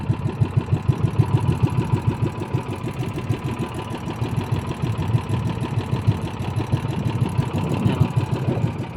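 An engine idles at a very low, slow idle, giving a steady, close, throbbing rumble that pulses evenly and continuously throughout with no other sounds.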